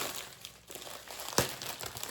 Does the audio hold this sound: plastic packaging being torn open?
yes